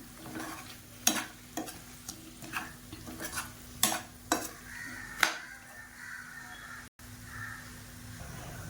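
Potatoes and tomato sauté in a pan for chicken pulao: a soft, steady sizzle is broken by several sharp, close scrapes and knocks of a spoon against the pan at irregular moments.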